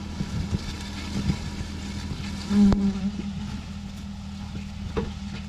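Honeybees buzzing around a hive newly housed inside a clay jar, a steady low hum that swells briefly midway, with no voices.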